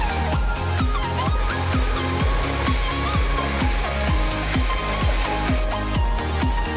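A Dekton DK HPW2500 2500W high-pressure washer runs and sprays, giving a steady loud hiss over a rhythmic low pulsing thump from the pump, continuous and close, with no talk.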